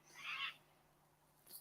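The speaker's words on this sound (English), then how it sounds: "And Kim, is that a bird in the background? Yes, those are birds." A wild bird calls once in the background, a short bright chirping burst followed by a faint higher note at the end, over quiet room tone with no speech.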